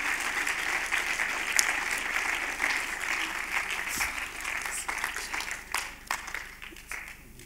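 Sustained applause from a crowd at a film festival awards ceremony, steady clapping that swells and thins slightly over several seconds.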